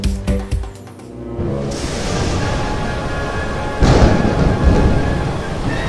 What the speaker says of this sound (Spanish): ¡Una tormenta!